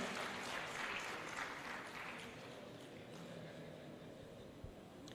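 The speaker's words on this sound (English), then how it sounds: "Please let's give him a round of applause as he comes forward." A conference audience applauds for a speaker in a hall. The clapping is steady and fairly distant, loudest at first and then easing into a softer, continuing patter.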